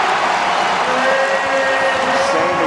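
Sellout basketball crowd at Richmond's arena in a VCU game, roaring and cheering after a made three-pointer, a loud sustained wash of crowd noise with faint tonal sounds inside it.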